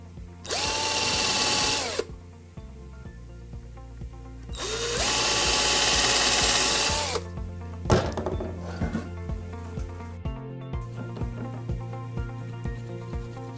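A power drill drives screws into pallet wood while a bench is built, two loud whirring bursts that rise and settle into a held pitch, then a knock and softer clattering handling sounds close by.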